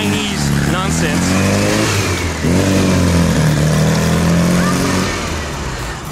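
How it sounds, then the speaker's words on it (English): A VW Super Beetle engine with a stock carburetor, running cold and a little choppy, revs up loudly at close range in two rising pulls before settling into a steady idle. "It's running on all cylinders again, which was a big deal."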